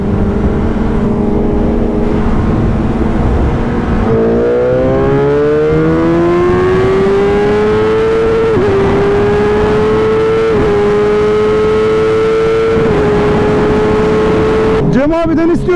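A BMW S1000RR sport motorcycle engine hums and revs close by, its pitch climbing in stages as it accelerates, with a sharp burst at the very end.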